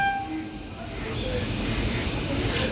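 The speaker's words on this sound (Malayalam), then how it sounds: "കുഴിത്തറ സ്റ്റേഷൻ്റെ 1ാമത്തെ പ്ലാറ്റ്ഫോമിലേക്ക് ആ വണ്ടി കയറി വരികയാണ്." An LHB-coach Nagercoil–Gandhidham express train rumbles steadily close by as it arrives at platform 1 of Kuzhithurai station on a single line, its low broadband roar holding throughout with faint tonal squeals riding above.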